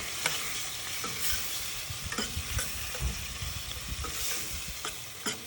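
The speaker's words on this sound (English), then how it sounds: "Give that a little stir." Shrimp simmering in a spicy tomato sauce with serrano chili and cilantro are stirred in a pan, a steady bubbling sizzle broken by repeated soft scrapes and knocks of the spoon, close and continuous with no talking.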